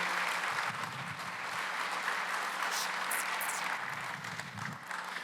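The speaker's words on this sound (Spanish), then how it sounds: "Den un aplauso al Señor por eso." A church congregation gives the Lord a sustained round of applause, a thick wash of many hands clapping together, fairly loud and steady, with faint crowd murmur underneath.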